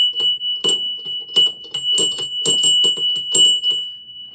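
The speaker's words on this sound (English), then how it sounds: "She let me ring this bell." A hand bell is rung repeatedly, about a dozen bright metallic clangs in an uneven rhythm, loud and close, each leaving a sustained high ring that lingers between strikes.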